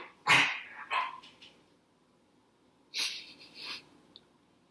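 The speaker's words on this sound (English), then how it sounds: "yikes, that was my dog." A pet dog barks indoors: two sharp barks close together, then a pause and another pair of barks, fairly close and clear over quiet background.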